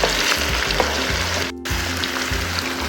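Chicken saag sizzling and frying steadily in a pan while being stirred and mixed, a continuous close hiss with a brief dip midway and no voices.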